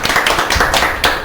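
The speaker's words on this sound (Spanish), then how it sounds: "un aplauso" Applause for a guest on a talk show, a short burst of several people clapping close by, uneven and lasting just over a second.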